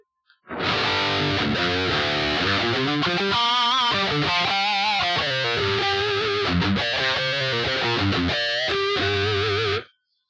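A heavily distorted electric guitar plays a sustained, saturated lead line with bends and held notes through a BOSS GT-8 T amp lead model, loud and continuous before cutting off.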